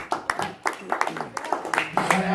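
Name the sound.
audience applause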